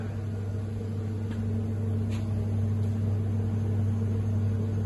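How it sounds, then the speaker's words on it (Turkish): An Ultrair electrostatic air filter runs in a smoke test, giving a steady, close mechanical hum with a low tonal drone and no speech. "Elektrostatiği açar mısınız? Evet, ultrayı çalıştıralım ve görelim."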